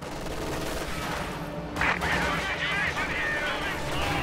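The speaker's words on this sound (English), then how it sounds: "he just hit a mine there in the center" A T-34 tank strikes a Teller mine in a war video game, setting off a sharp, loud explosive burst partway through, amid steady rumbling gunfire and battle noise with a commentator's voice.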